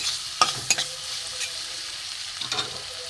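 Cumin, coriander paste, turmeric, chili powder and ginger sauté in a pan over low heat with a soft, steady sizzle, broken by a few sharp spatula scrapes and taps.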